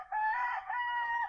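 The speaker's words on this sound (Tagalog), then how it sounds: "Oh, manok." A rooster crows loudly and close by in a rural Philippine farmyard, one sustained cock-a-doodle-doo with a brief break in the middle, heard alone with no talk over it.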